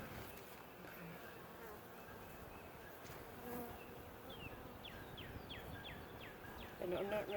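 Honeybees buzz steadily nearby in a low, continuous drone during a queen installation, with a few faint chirps and a brief rustle near the end.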